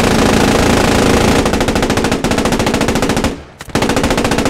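Tank machine gun fire from a Panzer IV in the World War II shooter game Post Scriptum, loud rapid sustained bursts that briefly cut out near the end before resuming.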